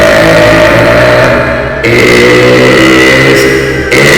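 A loud, sustained engine growl voiced for a spooky buried-truck story, deep and rumbling throughout with a brief dip and swell midway, heard on its own without talk.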